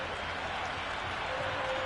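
Crowd in the Cricket 26 video game cheering and applauding a big hit into the stands, a steady dense wash of noise for a couple of seconds.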